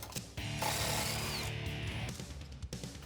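Impact wrench with a 10 millimeter socket working a brake line bracket bolt on an upper control arm of a 2007-2021 Toyota Tundra, a loud close continuous mechanical whir for about two seconds, starting after a brief pause and trailing off.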